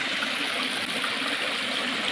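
Steady, close rushing and trickling of a jungle stream along the Khoiyachara waterfall trail, an even, unbroken wash of water noise with no one speaking.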